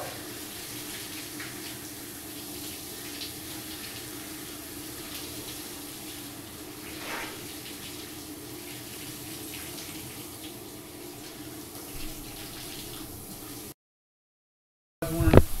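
Shower water pours in a constant hiss and patter for most of the stretch, then drops out briefly before a short burst of noise at the end.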